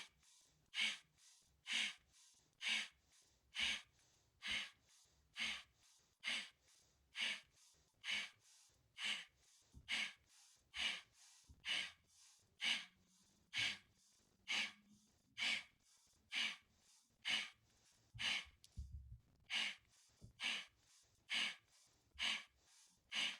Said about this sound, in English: and then breathing with each leg movement.